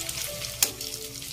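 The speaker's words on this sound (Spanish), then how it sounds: "Miren nada más qué rico huelen las salchichas cuando se están friendo." Sausages frying in a pan, with onion about to be added, give a steady close sizzle with soft crackles and one brief louder pop partway through; no one speaks.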